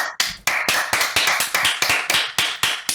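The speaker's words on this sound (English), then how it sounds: "Give a round of applause for these 2 gentlemen." A small audience gives a round of applause for two gentlemen, crisp, rhythmic hand claps at a steady quick pace, close and loud with no speech.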